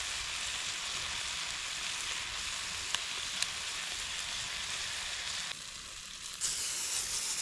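Sweet sesame teriyaki glaze sizzles steadily in a hot pan at a riverside camp, a dense, even frying hiss that holds throughout, with a small shift in texture near the end.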